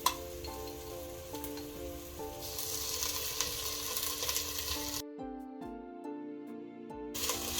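Onion and ginger sizzle and crackle steadily in a hot pan, with stirring noises on top. A short stretch near the end is quieter.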